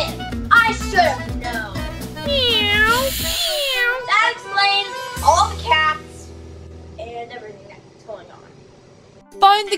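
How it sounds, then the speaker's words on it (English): Cartoon cats from the Paw Patrol Mayor Humdinger Catastrophe Crew meow repeatedly in rising and falling cries, mixed with lively speech and music. "Watch out for all those cats!"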